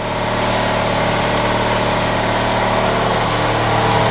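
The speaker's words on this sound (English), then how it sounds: "That fucking air compressor." Air compressor running in a garage, a steady loud mechanical hum and rattle with no pauses, close and unbroken from start to finish.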